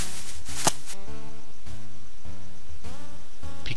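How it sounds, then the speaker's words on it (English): Short soft plucking and rustling clicks from picking mushrooms in the colony-building game Gnomoria, repeating in an irregular rhythm over a tonal game music background, with one sharper snap near the start. "Picking mushrooms."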